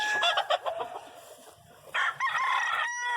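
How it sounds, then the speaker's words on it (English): Domestic hens, gamefowl of Finley gray and butcher-blood lines, clucking and crowing close by in bursts, a loud crow at the start, a quieter middle stretch, then another strong sustained crow near the end. "Here's another one of the McClanahan hens."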